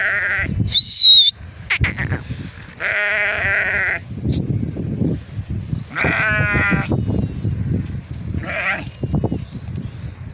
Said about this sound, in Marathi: आपल्या मेंढ्या आले आहेत माग,